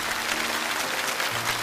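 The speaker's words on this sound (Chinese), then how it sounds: "我们全场真的欠在座的一位观众最热烈的掌声" Warm applause from a studio audience at a televised lecture, a steady wash of many hands clapping evenly throughout, fairly loud and without voices.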